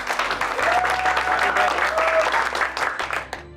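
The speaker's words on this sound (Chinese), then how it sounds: "各位记得啊，等一下他进来要掌声欢迎他" Office colleagues break into applause to welcome a new senior vice president, a steady dense clapping that fills the room at close range for several seconds before cutting off abruptly, with background music or tones underneath.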